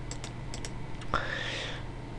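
Typing on a computer keyboard while entering a Windows 2000 product key: a few soft, quick keystrokes early on, faint and close, followed by a brief brighter click and a low steady background hum.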